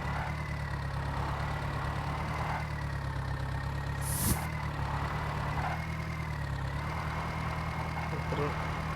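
A tractor engine idles in a video game, a steady low droning rumble held throughout with one brief sharp click midway.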